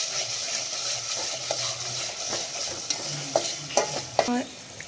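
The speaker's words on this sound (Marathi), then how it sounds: "आता हे मसाले टाकून मी व्यवस्थित परतून घेणार आहे" Spices for misal pav sautéed in hot oil, a continuous sizzle with a spoon stirring and scraping the pan, the clinks growing sharper toward the end, close up and without speech.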